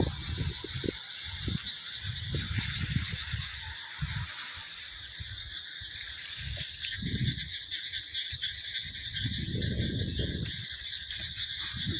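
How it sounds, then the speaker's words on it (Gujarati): Frogs croak in bursts through a rainy monsoon night, set against a steady bed of rain and insect buzz, with no one talking. "અત્યારે દેડકા અને એમનો અવાજ બી સંભળાય છે"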